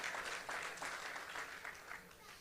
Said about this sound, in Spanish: Dele ese aplauso grande a su Dios.